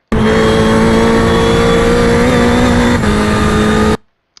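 A race car at VIR pulls hard on throttle, its engine holding a loud, steady, buzzing drone close by for about four seconds before cutting off abruptly.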